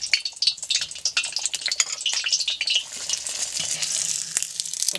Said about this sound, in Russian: Опускаем сюда луковицу и обжариваем ее до черноты.